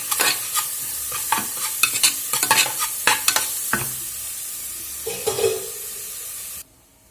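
A spatula scrapes and clatters rapidly through grated cabbage frying with turmeric in a pan over a steady sizzle, the strokes slowing before the sound cuts off near the end.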